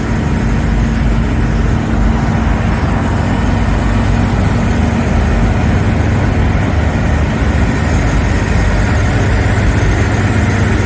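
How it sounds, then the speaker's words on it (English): A Corvette muscle car idles at a muscle car and Corvette show, its steady low engine rumble running loud and continuous with broad crowd and event noise mixed in. "Comes another Corvette."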